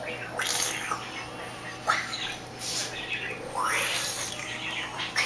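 Pumpkin pie filling poured from a container into a pie crust in a home kitchen, a few short liquid glugs and pours in bursts, with background household noise and someone's speech nearby.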